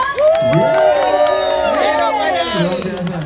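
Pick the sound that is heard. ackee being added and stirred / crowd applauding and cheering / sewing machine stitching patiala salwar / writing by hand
crowd applauding and cheering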